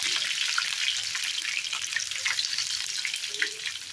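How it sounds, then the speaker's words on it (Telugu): Dried red chillies, curry leaves and garlic fry in hot oil in a pan, with a steady close sizzle and crackle that goes on without a break. "ఎండుమిర్చి, కరివేపాకు, తెల్లగడ్డలు వేసుకున్నాము. వేసుకొని బాగా ఫ్రై చేసుకోవాలి."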